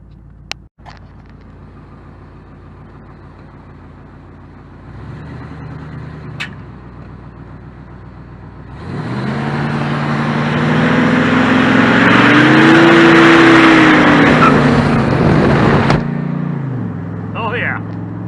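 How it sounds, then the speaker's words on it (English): A Dually pickup truck with a 454 engine idles, then revs hard during a burnout, building into a loud, sustained roar with a rising pitch before cutting back to idle; voices are heard around it. "Nothing like doing a burnout in your Dully truck."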